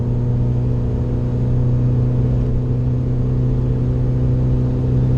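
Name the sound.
Ford Fiesta ST car approaching from behind on track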